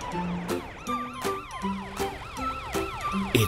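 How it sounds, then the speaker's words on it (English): A police siren wails with repeating rising and falling sweeps, loud and close, mixed with some bright tooting tones, with no talking. "It's Matt the police car."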